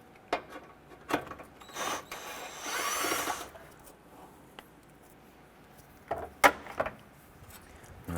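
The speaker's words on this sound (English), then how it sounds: "Using a 10mm socket, we want to go ahead and remove this bolt here" A 10mm socket wrench removes a bolt holding a bracket and wiring harness on the radiator cooling fan of a 2008-2012 Honda Accord, with a short ratcheting burst among scattered close clicks and knocks.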